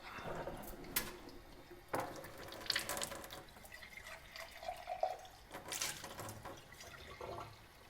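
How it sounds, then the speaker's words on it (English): Kangen water running from an ionizer unit into a container, a faint, uneven splashing trickle with a few brief louder surges, heard alone. "If I actually do a quick example for you and run the Kangen water through, just empty that out."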